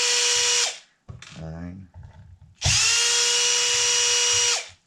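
A power drill removes screws from the wheel of a Losi DBXLE RC truck, sounding as two loud, high whirring bursts with a ratcheting spin-down, and a voice counting between them.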